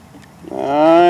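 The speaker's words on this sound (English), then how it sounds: "let's take this and hit that with a little compressed air and see what happens" Compressed air is forced through a port on a Stihl backpack blower, rising quickly into a loud, close, tonal hiss-whistle that holds to the end.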